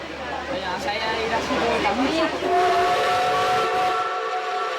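Restored steam locomotive hauling wooden coaches sounds a sustained steam whistle, loud and near, over rumbling and hissing, with voices mixed in early on.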